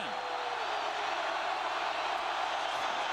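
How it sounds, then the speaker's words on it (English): A large football stadium crowd at a 1998 Oregon–Oregon State overtime game roars in a steady, broad wash of noise that holds throughout, with no clear individual voices. "Now the crowd's starting to get into it as well."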